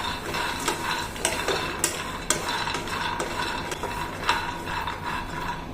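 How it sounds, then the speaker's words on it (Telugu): Groundnuts fry in a hot pan while being stirred, giving a steady scratchy rustle with sharp ticking clicks roughly every half second, close and moderately loud with no talking. "గ్రౌండ్ నట్ బుడ్డపప్పులు వేసుకొని ఫ్రై చేసుకోవాలి."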